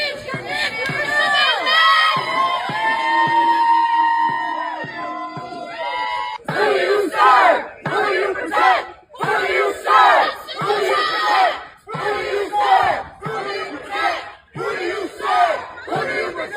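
A protest crowd on the steps of the United States Capitol erupts into loud, sustained shouting and cheering, then breaks into rhythmic bursts of chanting and yelling.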